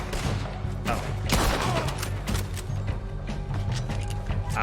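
Rapid gunfire in the video game Red Dead Redemption 2, a dense volley of sharp cracking shots and clattering mechanical noise over a rumbling game soundscape, fairly loud and continuous throughout.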